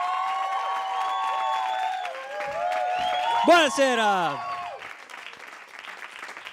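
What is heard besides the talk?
audience applause at a comedy roast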